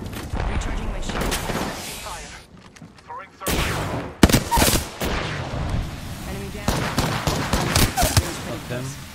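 Rapid gunfire from a shooter video game rattles in dense, loud bursts with brief pauses and sharp single shots, layered over a busy game mix with voices.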